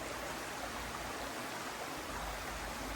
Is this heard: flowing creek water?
yes